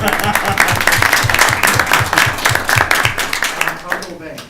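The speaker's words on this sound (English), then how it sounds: "We can clap at them." Audience applause at a town council meeting, a steady burst of many hands clapping close by for several seconds before thinning out toward the end.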